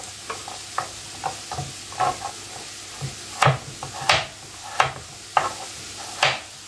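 Galangal, bay leaves and other ingredients for chicken soto ayam being sautéed in a pan, with a steady sizzle broken by repeated scraping stirs of a utensil, close up and with no talking.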